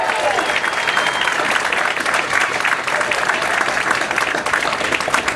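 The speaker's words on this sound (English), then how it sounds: "We'll give them a round of applause." A crowd at the Murray Morgan Bridge rededication gives the Lincoln High School drum line a loud, sustained round of applause, dense and even throughout, with a few voices mixed in.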